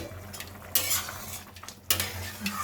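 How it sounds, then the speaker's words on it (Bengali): A lid clatters onto a cooking pot of khichuri, two sharp metallic clanks over a faint background simmer with small utensil sounds. "এখন ঢাকা দিয়ে দেব,"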